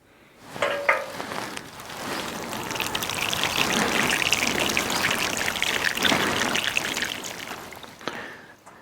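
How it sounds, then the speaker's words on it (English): Water poured onto newly planted Jerusalem artichokes in soil, a steady splashing patter that swells, holds for several seconds and then tapers off, close by. "And then we'll water those in."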